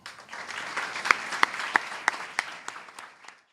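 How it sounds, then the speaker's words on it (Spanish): An audience applauds at an honorary doctorate ceremony at a university in Argentina: dense, steady clapping with a few sharper individual claps standing out, sustained for about three seconds before tapering off at the end. "Los recibimos con un fuerte aplauso"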